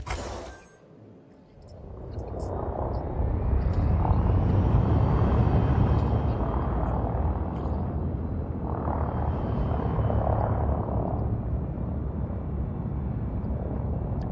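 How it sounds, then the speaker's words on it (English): Rough, heavy engine roar of a Type 9 Heavy ship in Elite Dangerous, rising after a brief lull into a loud, steady rumbling drone with slow swells in intensity, no voices. "I do like the rough sound on this engine. This Type 9 Heavy has"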